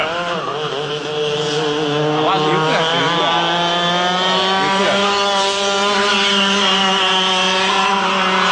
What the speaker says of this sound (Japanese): なんかエンジン音で演奏してるみたいだ